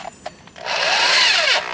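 A power drill with a 5/8 inch bit enlarges bolt holes in the mount of a Poison Spyder body-mount tire carrier, starting with a few short taps and then a loud, steady grinding whine for about a second.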